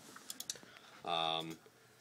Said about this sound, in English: You should be able to hear the relay kind of clicking in